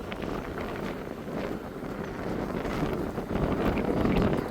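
Wind gusting across a mountain road on the way to Gangotri, a steady broadband roar that builds louder toward the end, with no talking.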